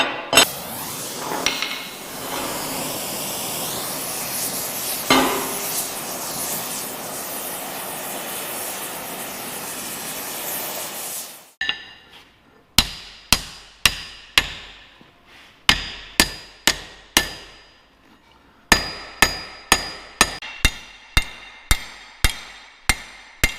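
A blacksmith forging and bending a hot iron door handle: a long roaring forge blower gives way to repeated ringing hammer blows on the anvil in steady bursts, loud and close.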